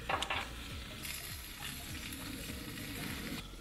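Bratwurst sausages, their middles cut open, sizzling and crackling steadily in a hot pan, a continuous close frying hiss with small pops, no talking.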